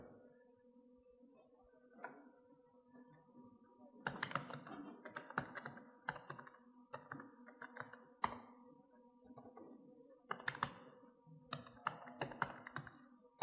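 Someone types on a computer keyboard in irregular bursts of crisp key clicks, separated by short pauses and a faint background hum, with no talking.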